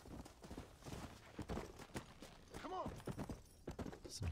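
A horse's hooves clip-clop in the Red Dead Redemption video game, a quiet walking rhythm of repeated hoofbeats. Players talk over it and a short whinny-like cry rises midway.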